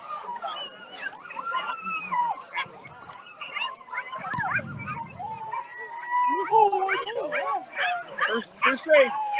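Sled dogs at the start area of a championship race, an excited chorus of yips, barks and whimpers from several nearby dogs, overlapping and continuous, with people talking underneath.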